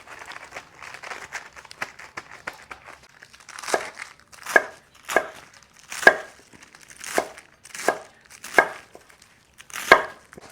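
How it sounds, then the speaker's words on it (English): A knife trims wilting romaine hearts on a cutting board. Soft crinkling leaf rustle gives way to a run of distinct, evenly spaced chopping thuds, close and moderately loud, with no talking. "I've got these romaine hearts that are looking a little bad, so I'm going to trim it all away"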